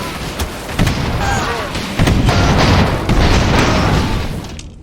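Loud, booming explosions and cannon fire from the airship battle game Airships: Conquer the Skies, a dense run of blasts and pops rolling on continuously, with a voice talking faintly beneath.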